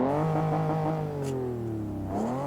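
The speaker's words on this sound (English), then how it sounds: "it's a nice luxurious engine sound and very quiet" A car engine starts and whirs up with rising and falling tonal revs, a smooth humming drone that climbs, dips, and climbs again, fairly close and steady, in the video game Forza Motorsport 6.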